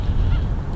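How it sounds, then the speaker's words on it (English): Birds in a park near home, a loud close goose-like honking that carries on steadily through the moment. "During this time of year, a lot of birds come out here"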